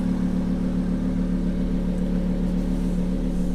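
A Lamborghini Huracan LP610-4 engine runs steadily at idle, a constant low, rich rumble with no revving, heard close and alone.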